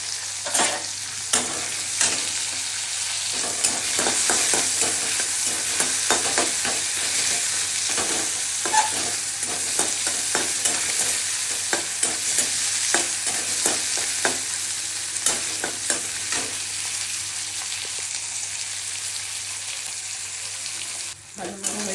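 Chopped tomatoes and onions frying in a pan for a Bengali curry, a continuous close sizzle broken by repeated scraping and stirring strokes, with no talk.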